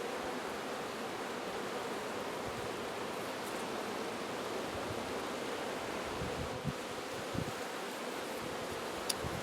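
Honey bees swarming over a hive frame holding honey and nectar, producing a dense, steady buzzing drone close by, with faint handling knocks near the end.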